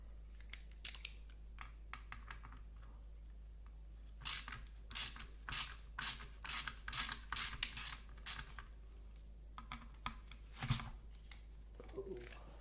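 A ratchet with a 5mm socket and extension working on a Ford Ranger or Explorer odometer, giving a run of about ten sharp, rapid clicking bursts close up, then a few scattered clicks.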